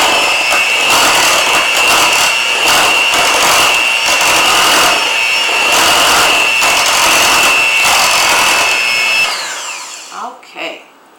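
Electric blender whirring steadily through a gourmet grits pie filling with ground nutmeg, a loud continuous motor drone with slight pitch wavering, then switching off and winding down near the end.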